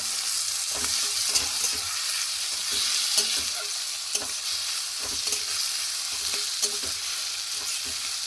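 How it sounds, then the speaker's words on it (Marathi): Chopped onion and tomato frying together in a pan for a Maharashtrian methi bhaji: a constant bright sizzle with scattered scraping stirs and soft knocks throughout. "इथे मी एक टोमॅटो चिरला आहे, तो पण लगेचच घालून घेऊया, म्हणजे दोन्ही सोबत होऊन जाईल, एकत्र शिजतील"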